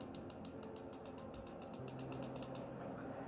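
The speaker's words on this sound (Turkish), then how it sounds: "Scroll tuşumuzun klik sesi bu şekilde." A scroll wheel on a Rampage SMX-R4 macro gaming mouse is rolled, giving a rapid run of small, close, dry ratcheting clicks that hold steady for about three seconds. No one speaks.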